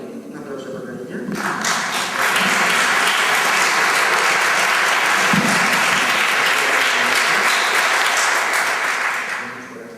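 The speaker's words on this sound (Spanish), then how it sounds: "Un aplauso para ella." An audience at an Asturian film festival gala bursts into applause for a best-actress presenter, a brief murmur giving way to a loud, dense wash of clapping that holds steady before tapering off at the end.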